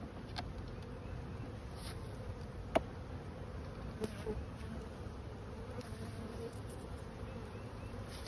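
Honey bees buzz around an opened hive, a dense, continuous drone from many insects close by, broken by a few brief clicks and handling knocks.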